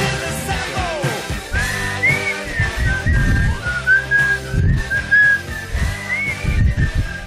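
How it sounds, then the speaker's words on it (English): A person whistles a wavering melody, close and fairly loud, with some bumps and handling noise underneath. "Now I gotta whistle."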